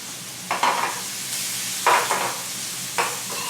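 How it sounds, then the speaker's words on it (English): Chopped celery and onion sizzling in a hot pan while being stirred and tossed: a steady hiss with three distinct bursts of louder scraping and sizzle, close and clear, no talk. "Go ahead and add that celery like that"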